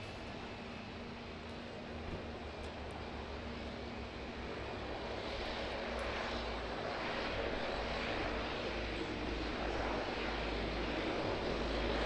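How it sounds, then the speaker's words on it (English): A Q300 turboprop taxis out at Auckland Airport, its engine drone a steady, moderately distant hum that slowly swells louder. "we've got the Q300 which is taxiing out down here"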